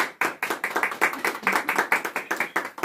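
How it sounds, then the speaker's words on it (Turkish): A few people clap steadily and quickly together for a few seconds at a birthday, a close, bright patter of hands without voices. "Alkış."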